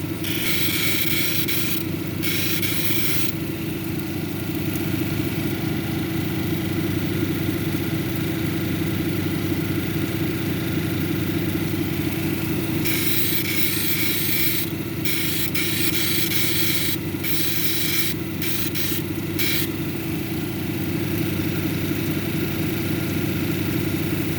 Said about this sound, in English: We'll finish it up on this wheel and move on to the polishing stage.